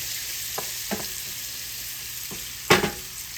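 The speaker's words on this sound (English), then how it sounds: "we're gonna let these onions saute off" Onions sautéing in oil with flour for smothered liver gravy, a steady soft sizzle with a few light clicks of a utensil against the pan and one sharper scrape near the end.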